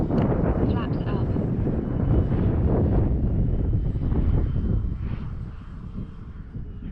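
An Avios King Twin 1700mm twin-engine RC airplane making a low pass: steady broadband propeller and engine roar with wind buffeting, loud throughout and easing off slightly near the end as it moves away.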